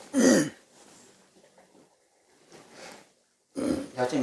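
A man with an itchy throat clears it with a loud, close rasp, then again more faintly midway and once more strongly at the end, with quiet gaps between the bursts.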